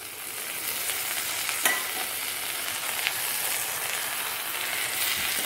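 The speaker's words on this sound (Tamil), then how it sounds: "இப்போ வந்து நம்ம இஞ்சி பூண்டு விழுது சேர்த்த போகிறோம்." Ginger garlic paste sautés with golden onions in a pan for a chicken gravy, giving a steady close sizzle with faint stirring scrapes.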